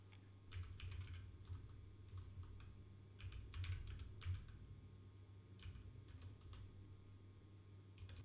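Login password typed on a computer keyboard at an Ubuntu 22.04 desktop sign-in screen: light clicking keystrokes in a few quick bursts with short pauses, close and fairly quiet over a steady low background hum.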